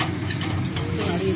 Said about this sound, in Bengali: নাড়িয়ে চাড়িয়ে দিলাম।